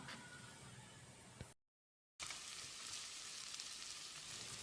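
Soaked dried peas sauté in a hot pan on the stove, giving a steady, close sizzle that cuts out abruptly for a moment before resuming just as strongly.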